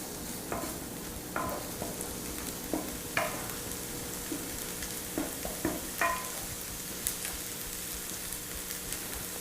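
Shrimp étouffée base of vegetables and flour simmering in a pot, a soft continuous bubbling sizzle with scattered spoon scrapes and taps from stirring, close and fairly quiet, no voices.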